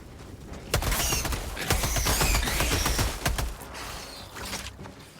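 SMG-37 Defender submachine gun in Helldivers 2 firing rapid bursts, sharp close cracks in quick succession from about 0.7 to 3.6 seconds, with mechanical clatter between and a quieter tail afterward.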